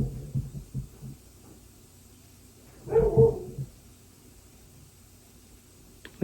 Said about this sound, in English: Get dogs barking.